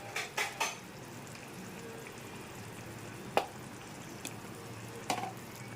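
Spiced masala with Kashmiri chilli powder, salt and turmeric frying in oil with fish, a quiet steady sizzle broken by a few clinks of a utensil against the pan.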